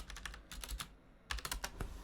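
Keys clacking on a computer keyboard in quick uneven bursts, two clusters of rapid strokes with a short pause between, close and fairly quiet with no talking.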